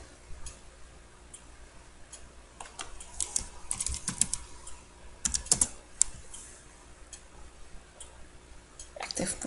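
Computer keyboard keys click in short irregular bursts of typing, close and fairly quiet, as a comment is entered on a Joomla backup screen, with pauses between flurries; no talking.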